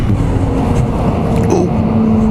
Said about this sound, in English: There's an Akropovich exhaust on this one, so wonder no more why the sound is better than standard.